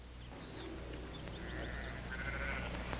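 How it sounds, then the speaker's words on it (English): Sheep being driven off bleat repeatedly, some calls faint and distant, a couple louder and closer, over a low steady rumble. "Now, Drummond, get those sheep out now."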